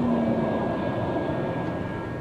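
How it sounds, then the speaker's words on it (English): A passenger train passes during a US road trip, a steady, loud rolling rumble with a constant mechanical roar that holds for the whole stretch without pause. "Oh, it's a passenger train."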